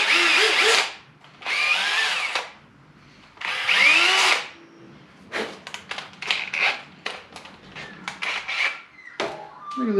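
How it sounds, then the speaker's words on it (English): Power drill spinning a Scotch-Brite pad to clean a clutch pivot ball on a Ford Courier: several long whirring bursts, then a rapid series of short on-off trigger pulses with scuffing against the metal. "With a Scotch-Brite and a drill."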